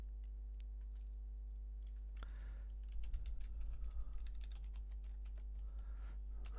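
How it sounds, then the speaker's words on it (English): Computer keyboard typing at a desk, quiet at first, then a steady run of close key clicks over a low electrical hum. "let's just type it"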